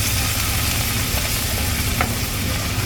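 Onion with garlic paste frying in a pan, giving a loud, steady, close sizzle with a low rumble beneath and a brief light scrape near the end.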